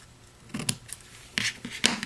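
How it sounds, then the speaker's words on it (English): Paper snips cutting ribbon during card crafting, a few short crisp snips in two small clusters, close and fairly quiet with no talking. "Trim down that ribbon."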